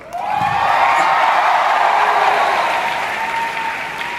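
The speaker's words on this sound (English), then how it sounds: "a round of applause" A large crowd at Thyagraj Stadium breaks into loud, sustained applause that swells quickly and holds steady as a dense wash of clapping, with no speech over it.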